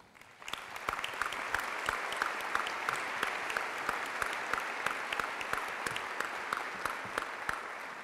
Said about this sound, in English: So I'd ask all our legislators to stand up if we could give them a round of applause.